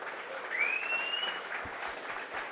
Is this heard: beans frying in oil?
no